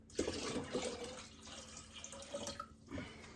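Water poured into a fermenter to top up a summer berry melomel, a fruit mead, to 4.5 litres, heard as an uneven close splashing and trickling with short bursts, no voices.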